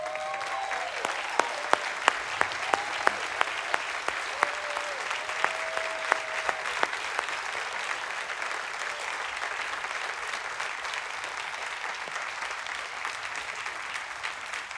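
A church congregation applauds youth workers standing to be recognized, sustained enthusiastic clapping with occasional sharp claps standing out, loud and continuous throughout.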